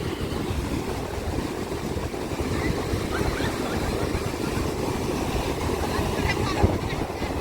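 Sea waves at Eco Beach in Honnavar, heard as a loud, steady wash of surf mixed with wind buffeting the microphone, with no clear breaks from start to end.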